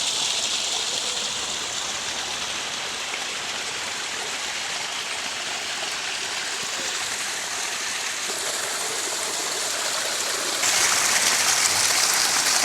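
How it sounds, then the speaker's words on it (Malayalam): Rainwater runs between rocks and a stone retaining wall during the monsoon rains, a steady broadband rush of flowing water that holds constant throughout and swells a little louder near the end, with no voices. "പാറകൾക്കിടയിലൂടെയൊക്കെ വെള്ളം ഇങ്ങനെ വരുന്നുണ്ട്."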